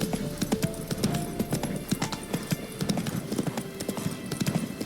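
Horse Roach's hooves clip-clopping at a steady walking pace in The Witcher 3, quick light hoofbeats in a continuous rhythm, fairly faint with no talk over them.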